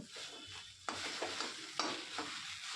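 Boiled potato being stirred into a vegetable cutlet mixture in a home kitchen, giving a steady scraping and stirring texture with a few sharper strokes of the spoon, close and moderately quiet, with no talking.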